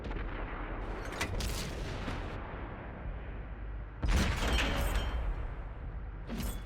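A Deathstalker M46 Patton tank cannon in World of Tanks on console fires in heavy, booming blasts, two main shots with rumbling tails over a steady low battle din, with no talk.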